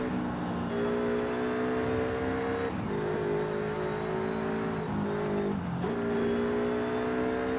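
An A class car tuned for Forza Horizon 5 drives hard, its engine a steady loud drone that climbs in pitch, cut twice by brief gear-change dips before revving up again, with no talking over it.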